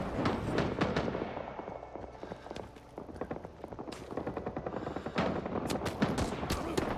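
Dense gunfire in the Vietnam-era video game Rising Storm 2 Cu Chi, rapid bursts of automatic fire and single shots overlapping almost without pause, loud and close with more distant firing behind, and no talk.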